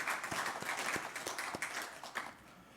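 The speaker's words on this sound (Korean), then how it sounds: "우리를 붙드신 하나님께 영광의 박수로 찬양을 올려드리겠습니다" A church congregation claps together during a Sunday worship service, a dense wash of hand claps with sharper individual claps standing out, fairly distant and steady before trailing off.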